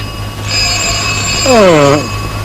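A telephone rings steadily in a comedy film scene, a sustained bright tone lasting over a second, briefly overlapped near the end by a gliding voice-like sound.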